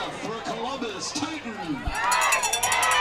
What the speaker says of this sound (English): Crowd still excited.